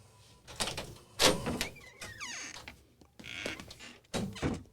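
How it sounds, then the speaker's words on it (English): An indoor door creaks open with a drawn-out, wavering squeal between a few dull thumps and rustling handling noises, heard up close. "It's a good creaking door."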